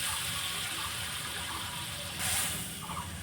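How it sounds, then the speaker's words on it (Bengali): Water is poured into a fish and eggplant curry seasoned with cumin and mustard paste, making a steady gushing hiss that swells briefly near the end. "ঝোলে যে পরিমাণ জল লাগবে সেই জলটা আমি দিয়ে দিচ্ছি"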